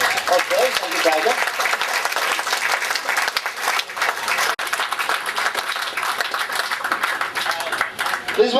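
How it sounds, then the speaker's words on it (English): Sustained applause from a sizable audience, dense clapping throughout with a brief dip midway, fairly close and loud. "A big applause to our restaurant manager, Ellen."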